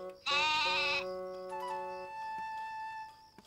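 A single sheep bleats loudly and close in a children's cartoon, one long wavering call followed by softer gentle tones, with no talking.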